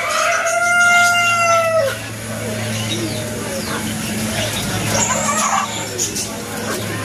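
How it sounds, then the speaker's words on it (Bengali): A rooster crows loudly and close at the start, among chickens of various breeds including Brahma and White Silkie, followed by softer clucking and ambient farmyard noise with someone speaking over it. "মুরগি বিভিন্ন জাতের,"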